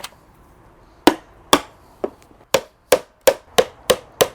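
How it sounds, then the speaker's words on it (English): Sharp hammer blows drive nails into scrap wood about ten times, spaced unevenly at first then quickening into a steady rhythm, close and crisp with no talking. "Let's hammer those in."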